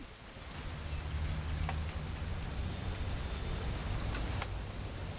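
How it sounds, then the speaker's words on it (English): Steady rain falls in the video game What Remains of Edith Finch, a dense, even patter on surfaces with a few brief drips standing out, continuous and moderately loud with no voices. "it's gonna rain the whole weekend"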